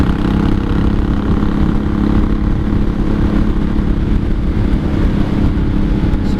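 A 1983 Honda Shadow VT750C V-twin with open straight pipes roars steadily while being ridden, a loud, close, unbroken engine drone with no voices.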